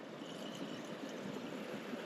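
A Sierra mountain creek with slightly tannin-tinted water runs steadily near Kaiser Pass, a continuous broadband rush of flowing water, moderately faint and alone.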